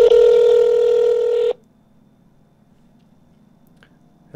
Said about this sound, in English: My phone ringing.